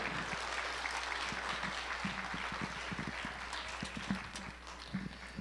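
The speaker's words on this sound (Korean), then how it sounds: "나오실 때 큰 박수로 환영하도록 하겠습니다" Congregation applauding in a church as a pastor comes forward at a Sunday evening worship service, even continuous clapping at moderate distance with scattered sharper claps.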